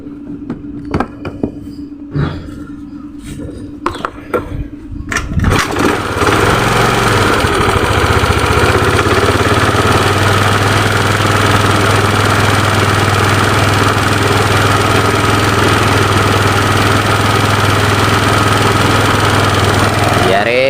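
A motorcycle engine with a compression problem settles into a steady, loud idle after a tuning adjustment. Before it, there are several seconds of uneven revving and clatter, and then a constant low drone that lasts to the end.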